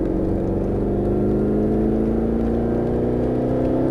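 Mercedes-Benz SLS AMG accelerating on a race track in Las Vegas, a loud, close, continuous engine drone whose pitch climbs steadily throughout, with no talking.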